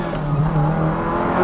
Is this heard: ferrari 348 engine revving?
yes